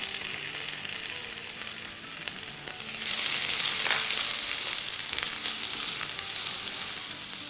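Green onion whites and diced bell pepper sauté in a hot pan, a steady loud sizzle and fry crackle running throughout with no talking.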